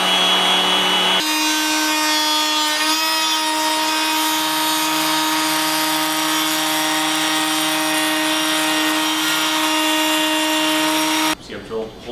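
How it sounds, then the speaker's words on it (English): A router spins steadily in a woodworking router table, giving a loud, continuous whine with strong tonal hum that holds for about ten seconds before cutting off abruptly near the end. "I plugged the router into this power strip, so I can operate it from the switch here rather than reaching underneath the table"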